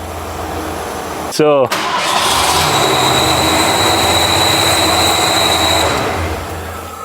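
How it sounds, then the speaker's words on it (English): A 39-year-old Ford truck engine catches with a brief loud sweeping burst, then settles into a steady, close, humming idle for several seconds. A voice speaks briefly. "Sounds good. It's idling well."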